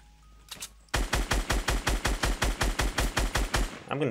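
Fortnite gunfire: a rapid, even burst of about fifteen loud close shots in steady rhythm, preceded by a brief softer noise, with no talking over it.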